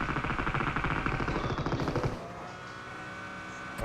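Automatic gunfire from PUBG Mobile, a dense rapid burst of shots that stops abruptly after about two seconds and leaves a quieter game background.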